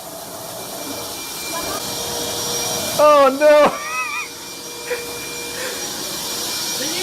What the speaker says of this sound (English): get in there with the vacuum